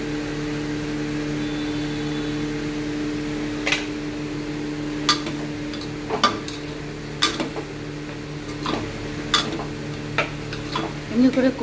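Spices frying in a pressure cooker for a kabuli chana recipe, a steady sizzle under a low hum, broken by sharp clinks and scrapes of stirring at irregular intervals.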